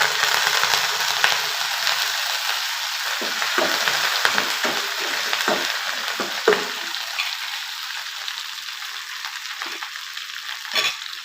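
Mustard seeds, dried chilies and curry leaves frying in hot oil, giving a close, steady hiss and sizzle with scattered pops and crackles throughout.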